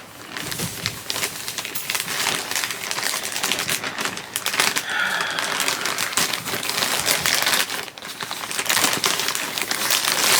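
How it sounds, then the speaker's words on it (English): Continuous crinkling and rustling of plastic packaging with sharp crackles and a few snipping clicks, close and steady throughout. "And we're opening the package."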